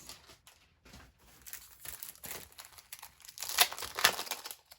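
Sticker sheets for a December 2022 scrapbook album cover being handled, giving irregular crinkly plastic-and-paper rustles that grow louder and sharper near the end, alone with no talk.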